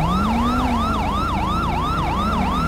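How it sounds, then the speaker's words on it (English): Police car siren from GTA 5, a loud, close electronic wail sweeping up and down in rapid repeated cycles, steady and continuous throughout with no talk over it. "Apparently, my sirens are so loud."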